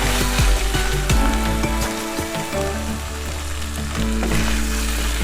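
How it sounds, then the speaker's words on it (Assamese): Mutton fries in oil in a pan over low flame, a loud, close, steady sizzle and crackle broken by sharp clinks and scrapes of a spoon against the pan, with no talking. "আৰু এনেকৈ আৰু অলপ সময় ভাজিম"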